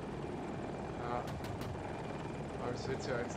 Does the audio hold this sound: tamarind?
no